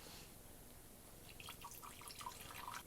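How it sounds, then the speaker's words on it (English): Liquid pours out of a bottle at an outdoor camp as soft splashing and trickling that starts partway through and rises into a faint, uneven gurgle, quiet and close, with no talk. "I'm going to pour some of this out and let you know what it tastes like."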